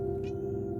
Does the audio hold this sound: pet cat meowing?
yes